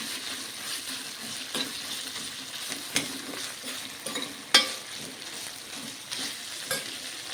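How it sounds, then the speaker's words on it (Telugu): A raw masala paste of cinnamon, cloves, cardamom, coconut and poppy seeds frying in oil for a brinjal curry, with a continuous soft sizzle and sharp scattered spoon taps and stirring scrapes close by. "అది పచ్చి కాబట్టి కొంచెం నూనెలో వేసుకుందాము"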